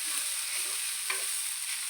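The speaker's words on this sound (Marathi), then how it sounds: "आता पोहेंना पण आपण छान मिक्स करून घेऊया." Soaked poha is stirred in a hot pan, giving a continuous soft sizzle with faint scraping of the spoon, close and fairly quiet, with no voices.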